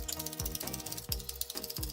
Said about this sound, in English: after you spend a good minute cracking your pepper grinder